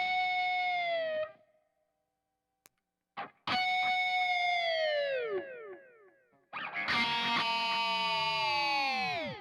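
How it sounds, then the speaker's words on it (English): Sustained electric guitar chords ringing out through an iSet analog delay pedal, repeats trailing behind each strum; three separate phrases with short gaps, no talking. "sound a little more dynamic with some delay going on behind"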